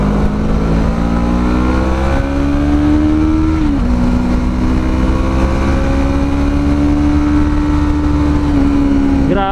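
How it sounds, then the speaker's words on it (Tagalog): FKM Falcon X400 motorcycle engine droning steadily and close, pitch rising through the gears as the bike accelerates with one brief shift dip, loud and continuous without talk. "let's ride the bike. And there you have it. This is the FKM Falcon X400."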